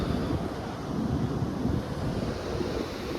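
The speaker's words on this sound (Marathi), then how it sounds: "बघा किती पूर आलेलं आहे" The Punad river in flood roars with a steady, dense rush of churning water, loud and continuous, with gusts of wind buffeting the microphone.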